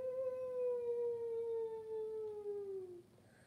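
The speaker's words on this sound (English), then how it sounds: "Oh, it's a humpback whale." A humpback whale sings one long, slowly descending tonal moan with rich harmonics, sustained for about three seconds before fading, alone over a low underwater hiss.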